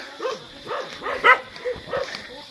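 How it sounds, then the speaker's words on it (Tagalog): Several dogs bark repeatedly along a walking route in Brgy. Haba, Candoni, their yips and barks coming in quick uneven bursts at moderate distance over outdoor background noise. "Yung mga aso na naman."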